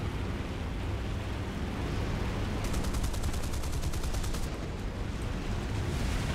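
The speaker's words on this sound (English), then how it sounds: "all those guns are trying really hard to hit that one target" Machine guns in War Thunder aimed at a single ground target, a steady roaring wash of rapid fire under aircraft engine noise, with a faster rattling burst in the middle.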